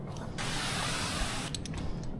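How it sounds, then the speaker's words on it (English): A spray bottle hisses water onto a car's wide door window for tinting in one close burst lasting about a second, followed by faint handling clicks; no one talks. "Spray the window."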